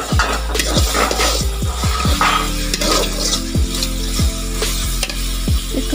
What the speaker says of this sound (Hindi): इसको हम अच्छी तरह से भून लेंगे।